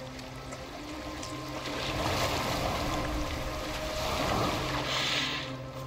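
Boat moving over water in the Viking-era game Assassin's Creed Valhalla, a steady wash of water and hull noise that swells louder midway and holds as a continuous, fairly close bed of sound.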